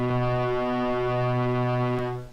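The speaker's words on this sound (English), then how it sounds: "That's the foghorn." A steady, loud train horn from Garry's Mod holds one continuous harmonic blast for about two seconds before cutting off, heard alone with no talking.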